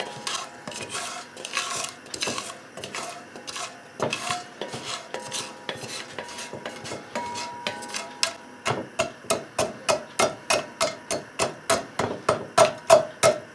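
Sugar lumps crushed in a pan while making Vietnamese caramel pork, heard as a run of sharp, close knocks and taps that settle into a steady, fast rhythm of evenly spaced hits, with no voices.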